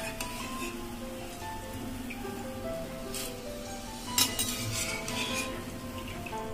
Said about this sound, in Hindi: बूंदी अच्छे से फ्राई हो गई है,